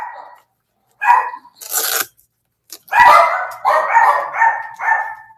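A dog barks in sharp, loud bursts indoors, several quick barks clustered after a pause, reacting as if to a knock, close to the listener with no talking.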